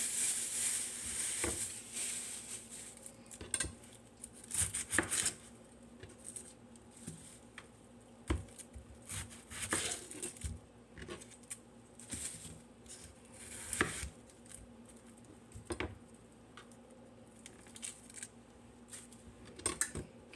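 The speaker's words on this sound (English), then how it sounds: "And I've got a red onion over here. We're going to cut some of that up." A knife chopping a red onion on a board in a home kitchen, sharp irregular taps that come in quick runs and pauses, close and fairly faint against a quiet steady hum.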